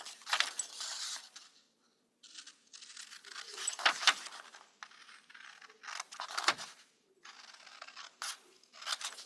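Scissors snip through paper while cutting out a card shape for a holiday door decoration, with close, crisp cutting bursts coming in irregular runs separated by short pauses.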